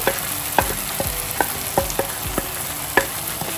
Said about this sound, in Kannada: ಬೆಳ್ಳುಳ್ಳಿ ಶುಂಠಿ ಎಲ್ಲ ಹಾಕಿ ಇದನ್ನು ಮಿಕ್ಸ್ ಮಾಡ್ಕೊಳ್ಳೋಣ ಚೆನ್ನಾಗಿ